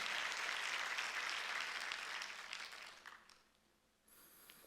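A church congregation claps together through a worship service, a dense, loud wash of applause that holds steady for about three seconds, then thins and fades before a brief lift at the end.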